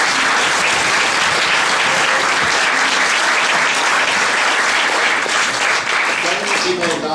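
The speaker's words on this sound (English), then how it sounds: "So I'd like to do a big round of applause." Sustained loud applause from an audience at an award ceremony for public service announcement films, steady clapping filling the whole stretch with a faint voice underneath.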